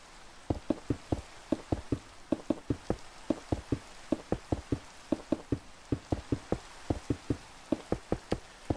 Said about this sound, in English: The rain will wash it away.